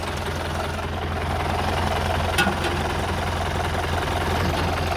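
A jeepney's diesel engine idles nearby with a steady low rumble and rhythmic knocking, unchanged throughout.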